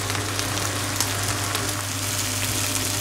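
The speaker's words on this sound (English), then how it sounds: "Fry the onions off till I'm soft." Two onions frying in oil in a pan, a dense, steady sizzle and crackle heard close and loud throughout, with no talking.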